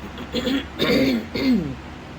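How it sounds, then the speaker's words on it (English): Someone clears their throat close by, three rough guttural rasps in quick succession, then quiet. "If I have to keep clearing my throat, I apologize."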